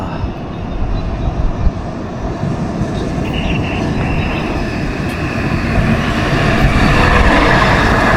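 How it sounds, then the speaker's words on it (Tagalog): A train draws nearer at Brühl, Germany, with a heavy, steady rumble that slowly grows louder and fuller, a broad roar filling the air close by. "Andito na yung tren guys."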